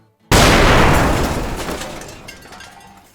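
A nitroglycerin blast blowing open a bank safe and shattering the bank windows: one sudden, loud, close explosion that roars out and then rumbles and crackles away over a few seconds, with no voices.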